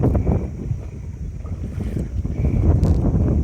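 A boat moves over water in a village near Sigiriya, Sri Lanka, with a loud, continuous low rumble of water and hull. Heavy wind buffets the microphone, and there is no speech.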